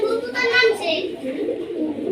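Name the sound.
pigeons cooing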